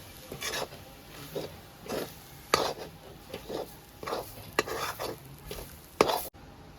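Fish cutlet mixture is squished and mixed by hand in a bowl, giving a series of soft, wet squelches and thumps in an uneven rhythm, close and fairly quiet.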